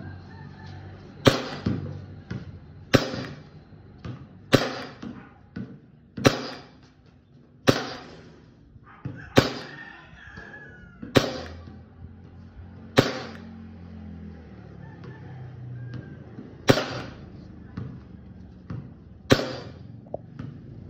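Airsoft WE G17 gen5 gas pistol fires about a dozen single shots at a steady pace, each a sharp crack a second or two apart, with quiet background sound between them.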